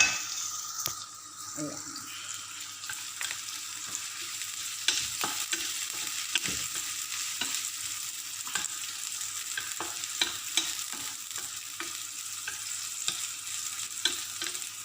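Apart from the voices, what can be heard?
hotdog frying in a pan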